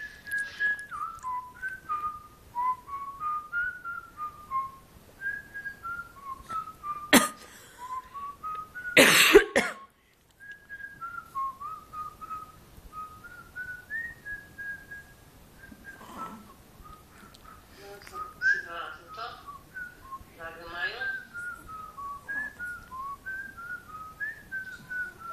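A person whistles a wandering tune up close, with the melody cut off midway by a couple of sharp coughs and throat clearing before it starts again.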